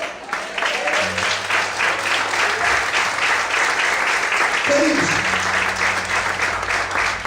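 Loud, dense applause from a church congregation during a Portuguese sermon fills the whole stretch, with a voice speaking over the clapping partway through.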